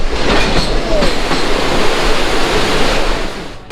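A loud, close rushing roar of a train at Azimganj railway station in Murshidabad fills the scene, holding steady before easing off in the final moments.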